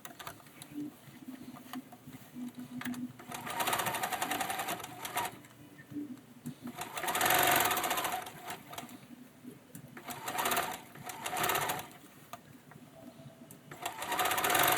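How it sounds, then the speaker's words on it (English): A sewing machine stitches lace onto a t-shirt neckline in several steady bursts of rapid mechanical whirring, separated by short pauses where the needle stops and the fabric is pivoted. "Now I'm going to pivot and just keep stitching on the neckline."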